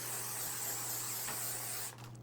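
Aerosol can spraying tree fern foliage at a florist's workshop, a steady close hiss running for about two seconds before cutting off, alone without talk.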